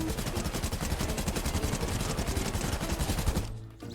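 Rapid bursts of gunfire from a Fortnite match rattle continuously and loudly, one shot hard on the next, before cutting off near the end.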